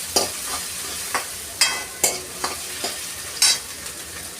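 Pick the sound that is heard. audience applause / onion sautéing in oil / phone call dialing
onion sautéing in oil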